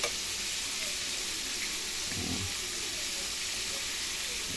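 Home-recipe fried chicken sizzling as it fries, a steady hiss of hot oil at moderate volume, with a brief bubbling swell around the middle and no talking.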